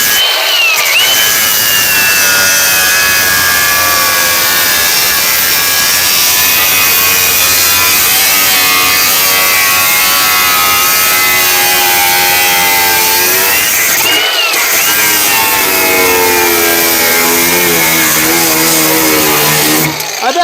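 Angle grinder with its guard removed cutting metal on a fuel tank mock-up, a loud continuous high-pitched whine with shifting tones that runs nearly unbroken, dipping briefly around the middle before resuming.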